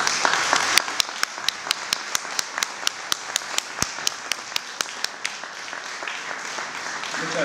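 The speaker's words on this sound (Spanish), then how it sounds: "lo recibimos con un gran aplauso" Audience applause welcoming a speaker onto the stage at a film festival event, heard as fairly faint crowd clapping with sharp, evenly spaced single claps standing out in a steady beat, thinning toward the end.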